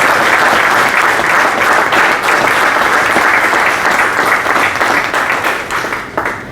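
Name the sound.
audience applause welcoming a panelist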